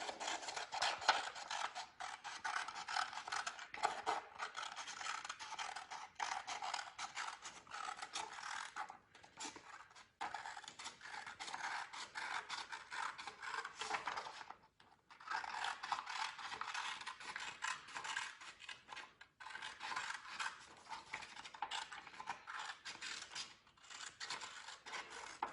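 A cardboard circle is cut out with scissors, a continuous close, dry scraping and rasping, steady with brief pauses, alone without talk.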